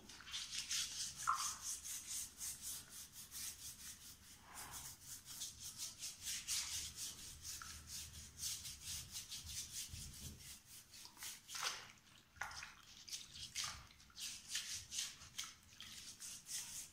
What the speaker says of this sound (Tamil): இந்த மாதிரி ஒரு 5 நிமிஷம் நீங்கள் தேய்ச்சிங்கன்னா போதும்